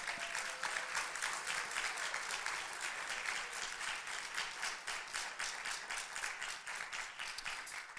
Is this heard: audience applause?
yes